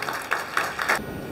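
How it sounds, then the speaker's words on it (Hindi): Audience at a fundraising dinner in Oslo applauding as a speaker is welcomed to the stage, several brief bursts of clapping from a moderate-sized crowd, fading out after about a second. "भरपूर तालियों में इस्तकबाल कीजिए।"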